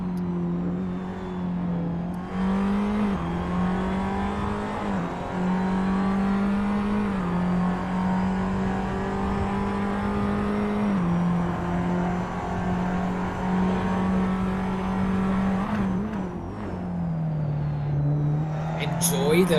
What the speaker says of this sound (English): Enjoy the revs of those engines. You can hear the downshifts and the way the gears just clunk as they get into position.